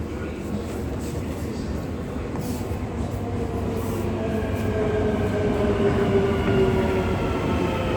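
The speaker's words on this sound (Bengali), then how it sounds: "অলরেডি ট্রেন চলে আসছে।" A Dubai Metro train pulling into the station rumbles louder and nearer, with a rising metallic hum and faint wheel squeal as it arrives, amid platform ambience.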